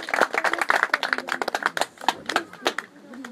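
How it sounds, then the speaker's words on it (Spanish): Hands clapping hard at a birthday party gathering, a dense run of sharp claps close by with voices talking over and among them. "¡Fuerte las palmas!"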